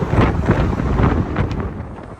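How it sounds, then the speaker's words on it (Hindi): Strong gusting wind buffets a handheld microphone in a busy New York City street setting, producing loud, irregular rumbling bursts with no speech. "बहुत तेज हवा है"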